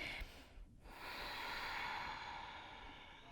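Ujjayi breathing through the nose during an Ashtanga yoga practice, a brief pause then a long, steady, hissing breath with a soft throaty rasp, close and quiet, no talking.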